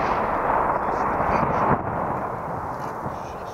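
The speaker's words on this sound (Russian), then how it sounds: "вставили электродетонаторы и с безопасного расстояния взорвали авиабомбы" Aerial bombs fitted with about 40 kilograms of explosive and electric detonators are blown up from a safe distance during pyrotechnician training in Sevastopol, heard as a heavy, distant boom and a long rumbling roar that slowly fades.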